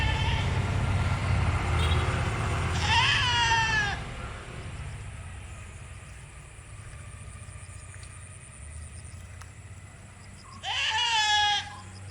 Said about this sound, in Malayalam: നല്ല ഇറച്ചിയുള്ള ഒരു മുട്ടൻ രണ്ട് വയസ്സ് കഴിഞ്ഞാൽ